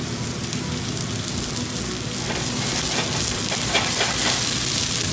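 Vegetables steaming lightly in chicken stock in a pan, a steady loud sizzle and hiss throughout with no talk.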